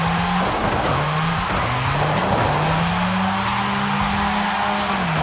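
A Mazda RX7 drift build spinning a donut in Forza Horizon 5, its engine droning loud and close at a held, wavering pitch while the tires screech steadily throughout.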